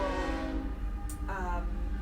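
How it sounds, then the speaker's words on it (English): A passing train sounds a steady, loud, droning horn with a low rumble beneath it, heard from outside throughout. "Got a train going by if you hear that."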